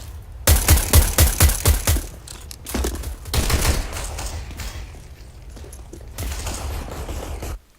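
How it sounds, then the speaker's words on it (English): Sharp pistol shots from a USP in Counter-Strike fire in a quick burst of about six, followed by scattered thuds, footsteps and game noise, loud and close with no talking. "So you pull out your USP, and you try to hit the Catwalk guy."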